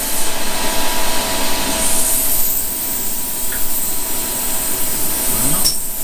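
A small machine tool runs steadily for chamfer milling with a small cutter, giving a continuous broadband whir with faint tonal hum. It stays fairly loud and even, with a brief sweeping rise near the end.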